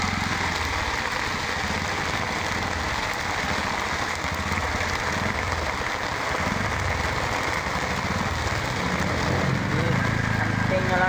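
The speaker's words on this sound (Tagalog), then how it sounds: "ingat kayo guys dahil sa ulan itong malakas talaga oh." Heavy rain pours steadily during a typhoon, a dense continuous broadband hiss with low rumble, loud and unbroken throughout, with a voice talking over it.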